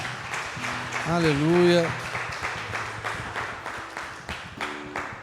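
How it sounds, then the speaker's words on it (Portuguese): A church congregation claps in steady applause for several seconds, with a voice calling out briefly over it and speech continuing near the end. "Dê uma força de palmas para Jesus"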